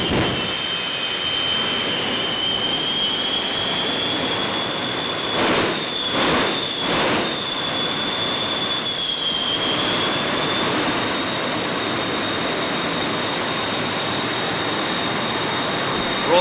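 The Shockwave jet truck ignites and runs at a Night of Fire event, a loud sustained jet roar with a whining tone and sharp bursts of popping near the middle, steady and close.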